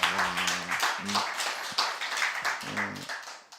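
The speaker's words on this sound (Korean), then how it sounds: "다시 한번 박수하겠습니다" A church congregation gives faint, scattered clapping during a Romans recitation service, mixed with a few taps and brief bits of talk that break through the applause.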